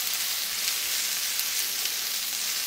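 Onion and capsicum sautéing for grilled mutton chops give a steady, even sizzle of frying, close and moderately loud, with no talking.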